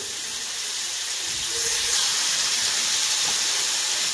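Water splashed into hot spice masala in a pan for a sea crab curry makes a loud, steady hiss that swells partway through and keeps steaming close by, with no talking.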